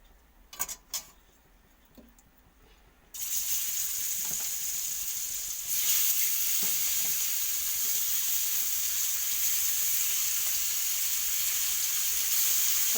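Fish pieces frying in mustard oil, a few knocks and a quiet stretch before a sudden loud sizzle erupts as the fish goes in, then a sustained strong crackle that grows slightly louder.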